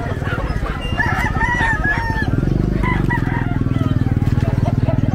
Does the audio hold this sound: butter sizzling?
no